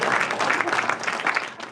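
An audience at a campus talk event breaks into applause, a dense, lively burst of many hands clapping close by that tapers slightly toward the end.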